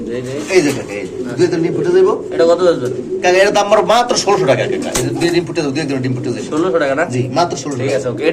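Steady cooing of several large pigeons at a pigeon market runs throughout, close and fairly loud, mixed with people talking over it.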